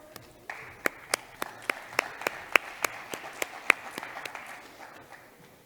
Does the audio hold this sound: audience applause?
yes